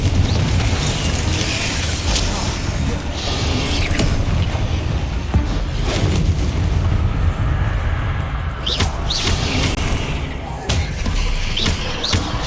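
Confringo spell blasts go off during spider combat in Hogwarts Legacy on Xbox Series X, repeated booming impacts and thuds mixed with busy battle noise, with voices over the fighting.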